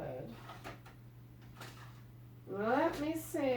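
A drawer pulled open while rummaging for supplies gives a few short, close sliding knocks and scrapes over a steady low hum, with someone starting to talk right after.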